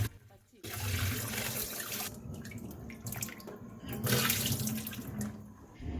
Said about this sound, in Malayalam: ഇനി നമുക്കിത് നന്നായിട്ടൊന്ന് കഴുകിയെടുക്കണം.